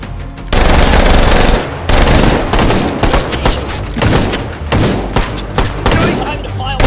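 Rapid automatic gunfire from the VR shooter game H3VR, loud and close, with sustained bursts and scattered single shots over a dense, rumbling background.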